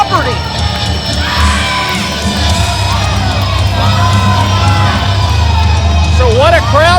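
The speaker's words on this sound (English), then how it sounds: "You notice how lively this crowd is." A lively, loud crowd at a New Era Wrestling Contender's Cup event cheers, whoops and yells continuously, a dense roar of voices with shrill individual shouts rising out of it.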